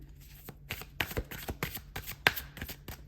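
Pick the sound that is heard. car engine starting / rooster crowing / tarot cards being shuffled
tarot cards being shuffled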